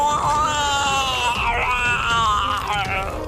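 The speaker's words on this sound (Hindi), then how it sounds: "उसकी दर्दनाक चीखें फिजा में गूंज उठी" Painful screams serve as a horror-story sound effect: a loud, sustained, wavering wail of agony that rises and falls continuously for several seconds without a break.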